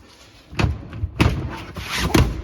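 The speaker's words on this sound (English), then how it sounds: "Power tailgate." Power tailgate on a Toyota RAV4 2.5 hybrid Excel closing, heard as a few dull thumps and a final latching thud with a low whir between them, close by.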